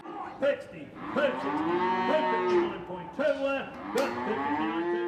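Cattle moo repeatedly in a loud, drawn-out chorus during an Australian drought, several animals overlapping with no talk.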